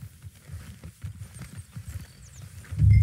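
Horse hooves clop in Red Dead Redemption 2 in a soft, uneven walking rhythm, fairly near and quiet, ending in a louder low thump.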